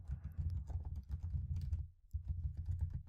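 Quick, irregular clicking of keys on a computer keyboard as a search is typed, with a brief pause partway through before the tapping resumes, close and fairly quiet.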